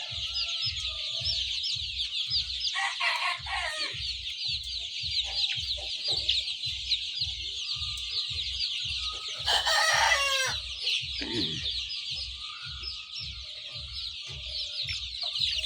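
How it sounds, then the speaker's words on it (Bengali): Fayoumi, Sonali and desi chickens in a shed holding about 500 birds cluck continuously, with rooster crows rising above the flock; a steady low rhythmic thumping runs underneath throughout. "এই ঘরে 500 মুরগি"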